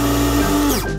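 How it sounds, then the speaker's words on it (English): A steady mechanical whir with a high tonal whine, like a small electric frother or blender blending milk, running continuously then winding down at the end. "And I'll blend the milk on my own as well."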